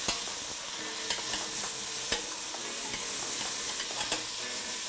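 Squash sweats in a hot pot and hisses steadily while a utensil stirs it, with regular sharp taps and scrapes against the pot about once a second, close and clear, with no talking.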